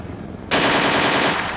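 A vehicle-mounted gun in the Immersive Vehicles (MTS) game opens fire after a short hush, loosing a rapid, loud, continuous stream of bullets that lasts about a second before easing slightly.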